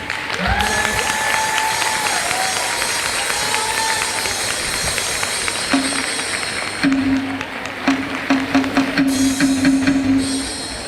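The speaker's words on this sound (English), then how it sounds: "give her a wonderful round of applause as she welcomes" An audience applauds a speaker being welcomed to the stage at an event, a steady, dense wash of clapping that runs the whole stretch, with a brief tonal sound early on and a more uneven patter near the end.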